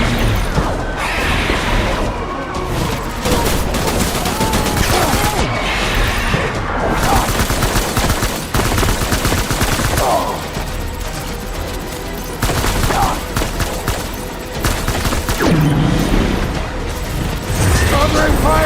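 Intense, continuous gunfire and explosions in a Death Stranding battle, loud and close throughout with rapid machine-gun volleys, with shouted voices mixed in.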